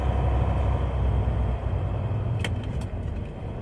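Volvo semi truck running bobtail with no trailer, its engine rumbling low and steady from inside the cab as it works up through the gears, with a few brief clicks or rattles near the end.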